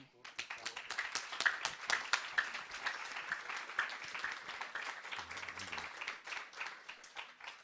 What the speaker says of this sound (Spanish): aplauso para el doctor.